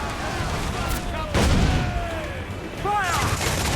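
Ship cannons firing during a naval battle in the video game Assassin's Creed IV: Black Flag, a burst of heavy booms at mid-clip with a second volley near the end, amid shouting crew voices and whistling tones.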